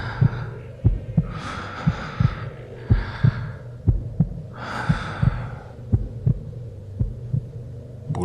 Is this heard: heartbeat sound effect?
yes